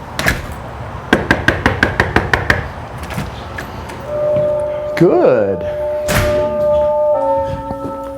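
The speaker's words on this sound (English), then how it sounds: "I'm going to go out here and knock on the door and ring the doorbell" A rapid series of sharp knocks on a door rings out, followed by a doorbell chime and a brief spoken word from a person nearby.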